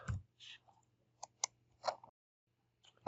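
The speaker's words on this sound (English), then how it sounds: "I go ahead and click that" Computer mouse clicks while working in Civil 3D software, a handful of short, sharp, close clicks spaced irregularly over a quiet low hum.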